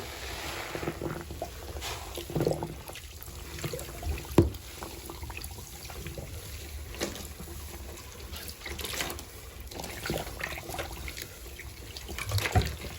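Tap water runs into a sink at room temperature for soaking, a steady continuous splashing flow with small clinks and bumps, no talking over it.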